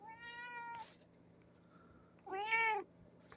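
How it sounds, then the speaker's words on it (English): A pet cat meows twice indoors, a long drawn call followed by a shorter, rising and falling one after a brief pause, both close and clear over a low steady hum. "This is just my cat."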